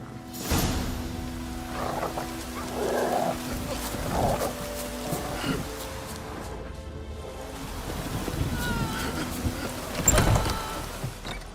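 Steady rain falls in The Witcher 3 game world, a dense broadband hiss throughout with occasional low rumbles and a louder burst near the end.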